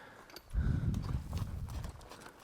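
A mare's hooves thud and clop on the ground while she works cattle, a short burst of quick, close hoofbeats that fades at the end.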